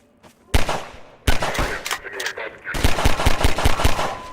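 Rapid bursts of gunfire in the Half-Life 2 video game, a short volley, a pause, then sustained automatic fire with sharp repeated cracks, loud and close.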